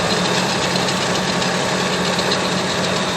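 Ural truck engine pulling in second gear off-road, a loud, steady, rough drone with heavy vibration that continues unbroken.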